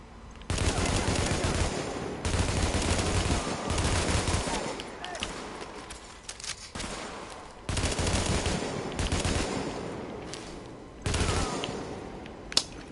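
Bursts of automatic gunfire from a newly acquired weapon in The Division video game come in several loud sustained volleys separated by short pauses.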